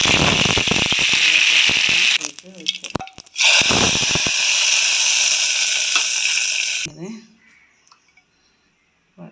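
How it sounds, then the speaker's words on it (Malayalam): Mustard seeds spluttering and popping in hot oil in a home kitchen, a dense crackling burst that cuts off abruptly, then quiet background with faint clatter. "ഇതിലേക്ക് കടകിട്ട് കൊടുക്കാം"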